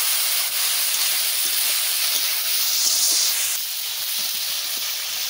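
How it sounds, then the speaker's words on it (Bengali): Vegetables dropped into hot oil with fried garlic, chilli and mustard seeds, giving a steady, loud hiss and sizzle that holds evenly throughout. "এইবারটা আমি এইটা দিয়ে সবজিটা আমি দিয়ে দিচ্ছি"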